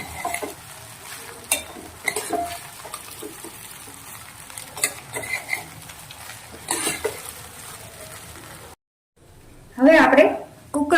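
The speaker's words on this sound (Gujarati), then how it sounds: "હવે આપણે એને આવી રીતે ધીમે ધીમે જ હલાવવાના છે।" Batata poha, flattened rice with potato, being stirred slowly in a pan: soft, intermittent spoon scrapes and clinks against the metal under a voice speaking Gujarati, then a louder burst of scraping after a brief pause.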